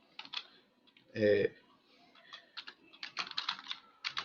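Typing on a computer keyboard in quick, close clicks and small bursts, with one brief louder sound near the start and soft speech mixed in.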